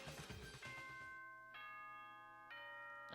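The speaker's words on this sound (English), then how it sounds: "Ding dong, bing bong. Guess it's nighttime already." Announcement chime from the video game Danganronpa: Trigger Happy Havoc, a sustained bell-like ding-dong with ringing tones that re-strike at about 1.5 and 2.5 seconds, clear and fairly quiet, following some brief muffled sound at the start.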